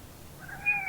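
Maxine, a little girl kitty, lets out one rising meow indoors, soft and close over a faint background hum.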